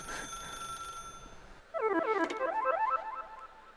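Telephone ringing in The Stanley Parable video game: a quiet room tone, then a loud electronic ring bursts in with rapid repeating trills, sounding close and alone.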